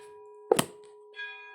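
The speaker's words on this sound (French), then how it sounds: "Voilà, la cloche qui sonne." A small bell rings once, a bright struck ding with a long sustained ringing tone that slowly fades, close and clear in a quiet room, followed by a faint second shimmer.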